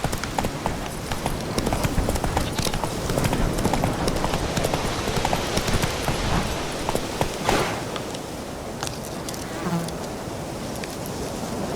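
Hooves of the horse Roach in The Witcher 3, a dense, steady clip-clop of galloping under a busy buzzing ambience, loud and continuous with no clear pauses.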